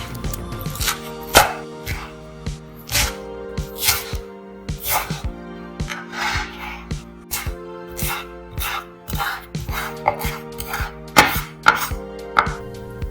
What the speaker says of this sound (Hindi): अब तकरीबन 1 प्याली धनिया काट लें।